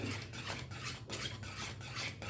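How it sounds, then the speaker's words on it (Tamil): A spoon stirs mango coconut milk kesari in a pan over low heat, making a close, rhythmic scraping that repeats in steady strokes about every half second. "எப்பவுமே இதை சிம்மில் வச்சு நல்லா இப்படி கிண்டிக்கிட்டே இருக்கணும்"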